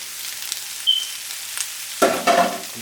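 Onions and garlic meet hot oil in a pot for Jamaican lentil curry: a near-quiet start, then a sudden loud sizzling burst that keeps crackling to the end.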